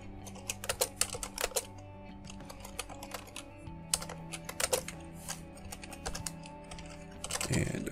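Code being typed on a computer keyboard, irregular bursts of close, crisp key clicks with brief pauses between runs, fairly quiet and free of talk.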